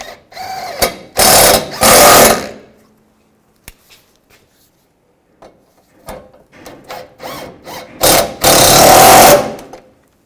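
A tool tightens headlight bolts on a 2007-13 Chevy Avalanche in bursts of close, rough ratcheting or grinding, two short runs at the start and a longer one near the end, with scattered small clicks and knocks between.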